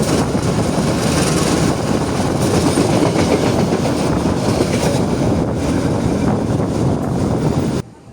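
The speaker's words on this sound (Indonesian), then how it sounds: "perjalanan kereta api Airlangga tiba dan berhenti di stasiun Cirebon Perujakan" A passenger train arriving at Cirebon Prujakan station at night rumbles loudly and steadily with a dense, roaring clatter of wheels on track, sustained throughout before cutting off abruptly.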